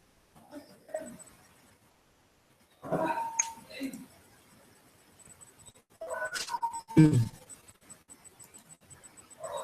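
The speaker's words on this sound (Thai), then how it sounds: "หมา แม่งก็เห่าจัง" A dog barks and whimpers in a few short, sharp bursts separated by quiet gaps, fairly close, with people talking around it.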